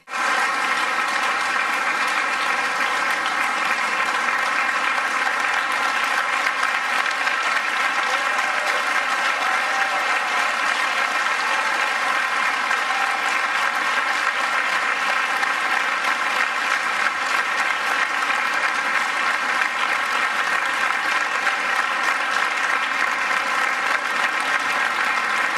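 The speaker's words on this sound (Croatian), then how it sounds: "Pljeskanje Šuice crvenom gradonačelniku Rijeke" Audience applause at an award ceremony in Rijeka, honouring the city's mayor and the Rijeka 2020 team, forms a steady, dense wash of many hands clapping. It holds evenly loud from start to finish without breaks or voices.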